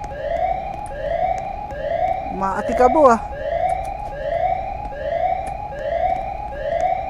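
Police car sirens wail in the Roblox game, a continuous rising sweep repeating about once per second, loud and steady, with a brief burst of other game noise and a short spoken phrase partway through.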